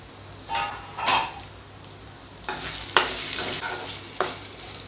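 Drumsticks fry in oil in a pan, giving a soft, low sizzle broken by several brief stirring scrapes and bursts at irregular intervals, with no one speaking.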